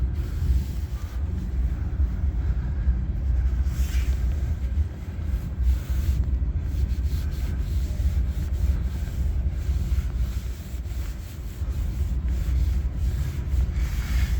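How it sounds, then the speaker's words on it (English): Rust is being sanded off the rocker panel of a 2014 Ford F150, making a steady, close abrasive rubbing and scraping that carries on without pause. "after I sand down all the rust"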